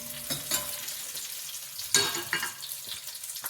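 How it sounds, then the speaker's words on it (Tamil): Garlic, curry leaves and a pinch of asafoetida sizzle and fry in a pan for carrot tomato rasam, with a steady crackle, bursts of louder spitting and stirring scrapes, close by. "நல்லா இதை வதக்கிக்கலாம்."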